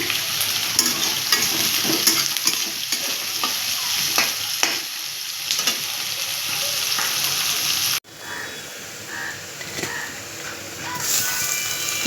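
Taro pieces fry with chopped garlic and a little salt in a pan, giving a continuous close sizzle broken by repeated spatula scrapes and stirs. The sound drops briefly before the frying hiss resumes.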